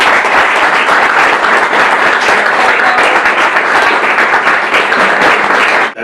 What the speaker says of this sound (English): So one more round of applause here.